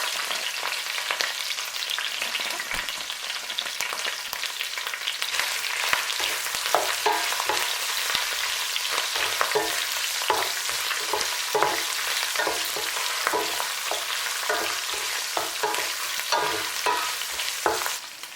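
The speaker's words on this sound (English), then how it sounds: "I'll start by frying my fish because I don't want bones" Fish sizzles and crackles in hot oil, fried for a Cameroonian beans dish, a continuous bright frying hiss with occasional stirring scrapes, no voices.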